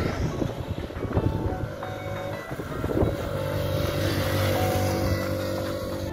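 Small motor scooters, one fitted with a lawnmower engine, race past with buzzing, revving engines, rising and growing steadier and louder toward the end, with no talking.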